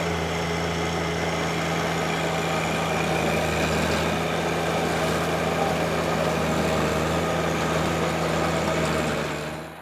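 A garden tiller's small engine runs steadily in forward rotation in a field, a loud, close, even drone with a constant hum and no pauses.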